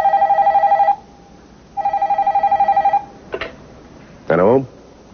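A telephone rings in a TV soap drama, two long bursts of trilling electronic ringing separated by a pause, followed by short voiced speech sounds.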